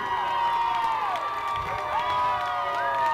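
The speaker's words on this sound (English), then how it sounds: "crowd is cheering as I guess the game is going to continue" An all-star football game crowd cheers and shouts in a constant wash of voices, with higher whoops and yells rising over the broad crowd noise.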